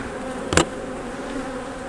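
Honeybees buzzing around an opened hive in western Oklahoma, a steady agitated drone close by with one brief louder pass near the mic; no voices.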